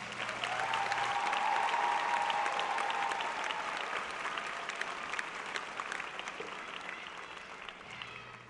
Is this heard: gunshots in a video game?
no